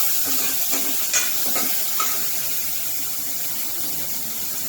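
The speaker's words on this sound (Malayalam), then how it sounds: "ഇതൊന്ന് ചുവക്ക വറക്കണം." Ginger and black pepper sizzling in hot oil in a pan while they brown for a fish molly, a steady close hiss with a few soft stirring scrapes and clinks.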